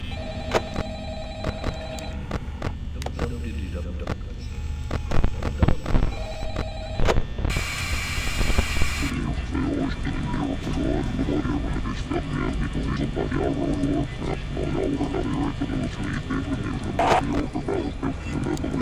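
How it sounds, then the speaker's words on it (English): Garbled, distorted noise of the Night 5 phone call in the video game Five Nights at Freddy's, a continuous harsh, growling mash of scrambled sound with a ringing tone and a brief loud hissing burst midway. "Let's listen to the Night 5 phone call."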